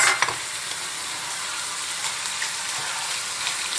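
Spanish paprika mixture with salt cooking in a pan, a steady loud sizzle and hiss of frying throughout, with a brief clatter of stirring at the start.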